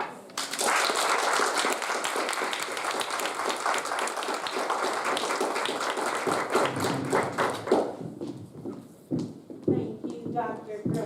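An audience at a homecoming student talks event applauds in a dense, loud wash of clapping that tapers off toward the end, giving way to scattered claps and a voice speaking.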